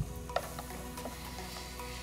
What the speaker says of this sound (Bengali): এটা একটু নাড়তে হবে আমি কেটে দিই যেন পুড়ে না যায়